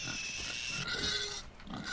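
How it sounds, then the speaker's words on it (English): Pig squealing in the Far Cry 5 video game, a loud, continuous high-pitched squeal that shifts in pitch over about two seconds, with no talk. "Oh no, I can't beat a pig."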